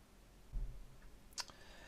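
A single quiet computer mouse click sounds on a faint background, alone, short and sharp.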